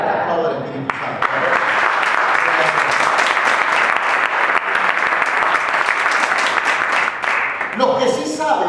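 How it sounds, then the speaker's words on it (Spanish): A church congregation applauds after a sermon, with loud, dense, sustained clapping from many hands lasting several seconds before fading, while a voice speaks briefly at the start and again as the clapping ends. "Aplauda al Espíritu Santo."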